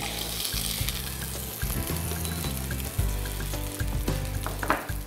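Pork chops in a frying pan sizzle and crackle steadily, with intermittent scraping and clattering of utensils against the pan over the frying.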